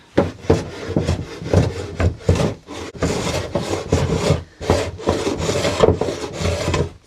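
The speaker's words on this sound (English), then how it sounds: "So I'm shaving this way," Close, rhythmic rasping strokes come from shaving wood off a sticking desk drawer, about a dozen scraping passes in quick succession with short gaps between them.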